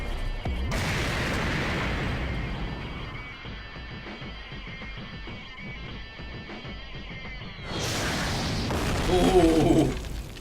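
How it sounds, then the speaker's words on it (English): Explosions and impact bursts in a Chuck Norris versus Segata Sanshiro Death Battle cartoon fight, dense booming rumble that thins out midway and then swells again into a louder blast near the end. "He's gonna explode twice."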